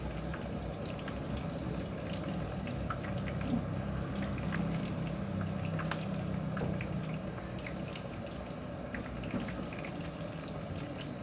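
Steady low sizzling and bubbling of fish eggs frying in a pan, quiet and continuous, with no voices.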